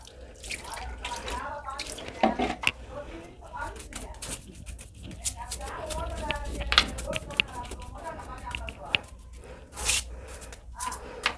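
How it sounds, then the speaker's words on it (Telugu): Water splashes and drips while a toilet and its tiles are rinsed clean, making uneven bursts and trickles at close range, with a person talking over much of it and birds faintly in the background. "ఇప్పుడు మనం వాటర్తో క్లీన్ చేద్దాం. Water wash."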